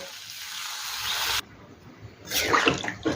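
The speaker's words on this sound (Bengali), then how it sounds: "এখানে আমি গরম জল দেবো।" Hot water poured into a pan of okra and potato curry, a steady splashing rush that cuts off abruptly, followed by a louder bubbling sizzle as the liquid hits the hot spiced vegetables.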